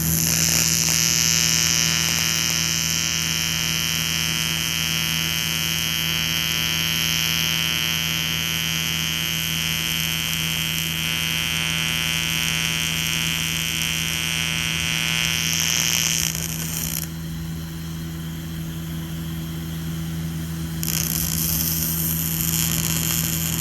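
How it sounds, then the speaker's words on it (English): An arc welder runs a wandering arc on aluminum in a home workshop, a loud, steady electrical buzz and hum with crackling hiss that holds for about twenty seconds, briefly dipping before resuming. "See that arc flying around there, see it running off that end in a different direction, how it's moving around."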